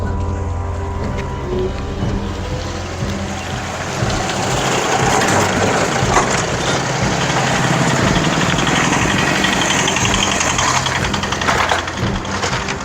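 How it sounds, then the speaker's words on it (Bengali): Motorbikes and e-rickshaws crossing the damaged Mejia road bridge on NH60, a steady, fairly loud mid-pitched engine hum and idling drone with traffic rumble throughout, no talk. "এর মধ্যে কিন্তু বাইক এবং টোটো ওইভাবেই যাতায়াত করছে"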